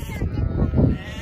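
Lambs and sheep bleating close by on a farm, with a couple of overlapping bleats swelling over about a second amid outdoor background sound.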